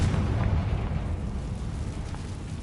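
Spell-cast explosions from Bombarda and Confringo in the Hogwarts Legacy video game: a sustained low rumbling boom with crackling debris, steady and fairly loud throughout, no voices.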